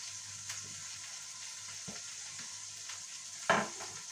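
Hamburger patties topped with cheese fry in a pan, a steady close sizzle with occasional soft clicks and one louder scrape or clatter toward the end.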